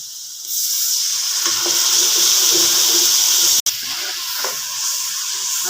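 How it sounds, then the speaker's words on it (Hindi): Water is poured into a hot cooking pan of potato and moongra curry, setting off a loud, steady sizzling hiss with steam that continues throughout, briefly cut off once before resuming. "इसको ख़त्म करके ही इस तरीके से अब इसमें ये पानी डाल रही हूँ।"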